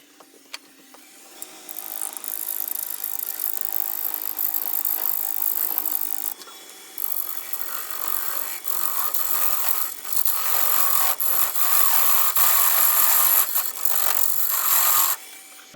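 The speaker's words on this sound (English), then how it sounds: "we're really going to have to take it slow on the lathe initially, but let's see if we can get it to round" A wobbly, off-center wood blank from a crotch section spins on a lathe while a tool rubs and scrapes against it, a steady rough whirring that swells and breaks off in uneven bursts, close and fairly loud.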